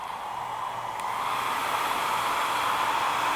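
Blow dryer fitted with a nozzle blowing on hair, a loud steady airy roar with a constant whine, close and uninterrupted, with a faint click near the start.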